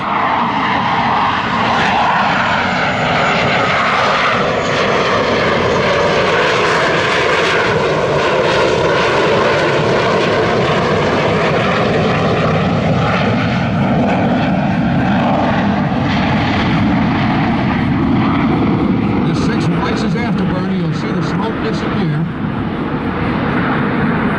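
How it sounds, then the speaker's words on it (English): Blue Angel number 6, a jet with two GE404 engines, lighting its afterburners and hanging on engine power at an air show over Pensacola NAS: a loud, continuous, roaring rumble that holds steady throughout. "watch as Blue Angel number 6 lights his afterburners and hangs his airplane strictly on the power from his two GE404 engines"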